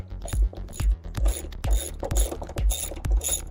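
A ratchet wrench with a 10mm socket turns a bolt on a 2012 Mercedes ML interior panel near the rear seat, giving close, steady clicking ratchet strokes in a regular rhythm, about eight pulls with no talking.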